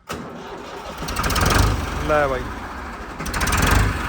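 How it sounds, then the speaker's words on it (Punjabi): A Ford 3600 tractor engine cranks and catches, then settles into a steady, rumbling idle close by. Someone speaks briefly over the engine. "ਟਰੈਕਟਰ ਦੀ ਆਵਾਜ਼ ਕਰੋ ਚੈੱਕ"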